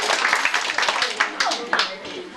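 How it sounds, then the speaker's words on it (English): Family audience at a home magic show claps for two child helpers, a lively burst of close, sharp individual claps with some voices mixed in. "Let's give Corey and Lindsay another big round of applause."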